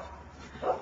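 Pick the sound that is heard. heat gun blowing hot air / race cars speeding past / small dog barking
small dog barking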